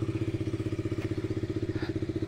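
A motorcycle engine runs close by in the Kalimpong hills, chugging in a steady, even rhythm like a bike just started and idling, loud and alone without talk.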